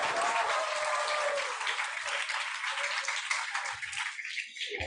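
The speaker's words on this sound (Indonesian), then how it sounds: "Tepuk tangan dulu buat Kak Septa Dinata." Audience applause at a digital literacy seminar, loud continuous clapping for about four seconds that thins out abruptly at the end.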